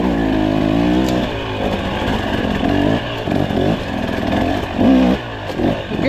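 A KTM 300XC two-stroke dirt bike engine revs in repeated bursts, running at 6,000 feet with an RK Tech head, loud and close with rising and falling pitch and no voices.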